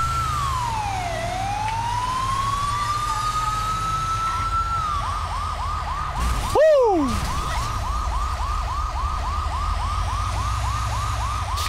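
Ambulance siren from the video game GTA V, loud and continuous, sweeping in a long wail and then switching to a rapid yelp pattern. A brief whooshing pass cuts across it midway.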